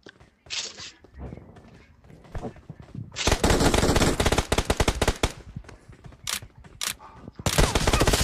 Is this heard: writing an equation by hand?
no